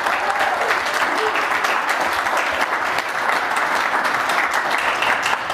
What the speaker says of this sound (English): So let's do a round of applause.